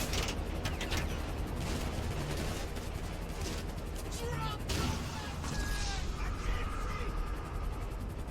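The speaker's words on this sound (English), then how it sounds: "the windows are bulletproof unless you have those armor-piercing rounds" Gunfire striking the bulletproof windows of a vehicle in GTA 5 Online, a dense, continuous crackle of shots with sharp impact hits layered over constant background noise.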